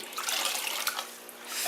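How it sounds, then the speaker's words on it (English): Water pours into a bucket for an aquarium water change on a 90-gallon discus tank, a continuous splashing rush that stays fairly quiet and steady, with no voices. "I fill my bucket approximately a quarter of the way"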